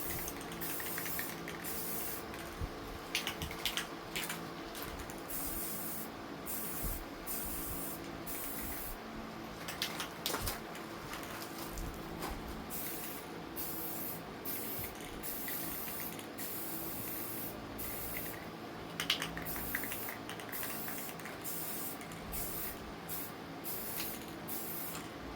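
Spray can hissing in steady bursts with brief gaps as a vintage LAU 20-inch box fan is painted teal, close and continuous across the whole stretch with no talk.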